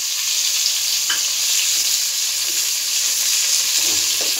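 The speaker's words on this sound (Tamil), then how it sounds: "வெங்காயம் இந்த அளவுக்கு வதங்கிடுச்சு" Onions sautéing in oil with whole spices such as bay leaf, cloves, cardamom and star anise for a vegetable brinji, giving a steady, close, dense sizzle throughout with faint stirring clicks and no talk.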